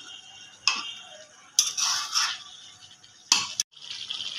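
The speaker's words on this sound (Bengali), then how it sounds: "মাংসটা এবার আস্তে আস্তে কষানো হচ্ছে।" Chicken slowly sautéed with spices in a pan, intermittent bursts of bright hissing sizzle rising and falling between quieter pauses, close and moderately loud.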